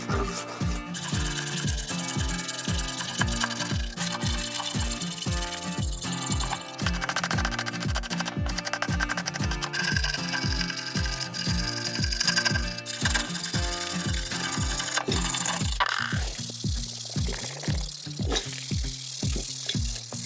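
A piece of wood is rubbed by hand in a quick, regular back-and-forth rhythm of rasping strokes, close and continuous for about twenty seconds, with no voices.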